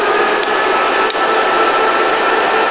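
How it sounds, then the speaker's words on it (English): A polishing machine whirs steadily while removing fire stain from silver, a continuous broadband hiss and hum with a few faint clicks, close and fairly loud, with no talking. "let's get this polishing going"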